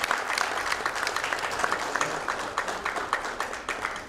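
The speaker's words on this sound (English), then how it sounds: "Let's have a round of applause and officially starting with" A crowd claps at a hospital's product launch event, a sustained round of applause with individual sharp claps standing out as it thins toward the end.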